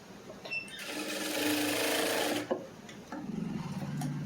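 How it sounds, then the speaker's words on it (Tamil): An electric sewing machine stitches a blouse lining, its rapid needle chatter running in a fast burst, pausing briefly, then resuming in a quieter rhythmic run, close and alone. "இப்படி வச்சுட்டு இப்படி தையல் போட்டுடணும்"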